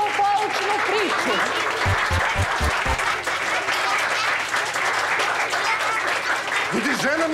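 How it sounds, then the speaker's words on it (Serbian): Audience applause for fathers after a story at a kindergarten event, steady and dense through the whole stretch, with people talking and calling out over the clapping. "A sada jedan veliki aplauz za naše hrabre tatice i za njihovu poučnu priču."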